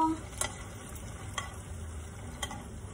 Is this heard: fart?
no